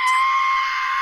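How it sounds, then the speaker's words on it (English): A loud, continuous high-pitched scream like a screaming goat, steady and sustained for about a second with no pauses or talk. "it sounds like one of those screaming goats"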